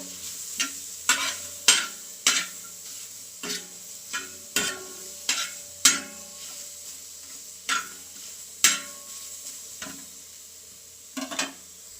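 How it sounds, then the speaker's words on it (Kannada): Onions fry in a pan for mutton sambar, browning under a steady sizzle while a spatula scrapes and knocks against the pan in repeated sharp strokes, close and without talk. "ಈ ಥರ ಕಂದು ಬಣ್ಣ ಬರೋ ತನಕನೂ ಈರುಳ್ಳಿ ಫ್ರೈ ಮಾಡ್ಕೋಬೇಕು"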